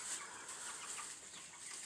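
Broiler chickens about a month old cluck steadily on a contract poultry farm, a faint, continuous flock murmur with no one speaking.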